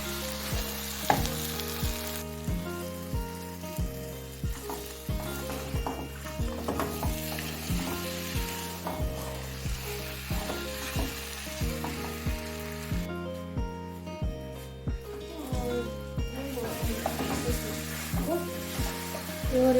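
Beef paya frying with ground spices in a pan, a sizzle and stirring scrapes partly buried under rhythmic background music throughout.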